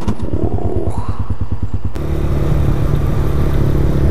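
A motorcycle on a city street makes an odd, rapid rhythmic clattering like a sprocket or chain fault, then its engine shifts abruptly into a loud, steady rumble at close range.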